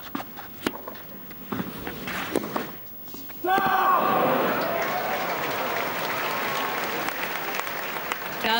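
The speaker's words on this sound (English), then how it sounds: "Crowd trying to cheer their man on, Roger Federer." Tennis spectators at the Roland-Garros men's final cheer and applaud for Roger Federer, sparse claps and shouts first, then a loud sustained burst of applause and cheering with whistles that carries to the end.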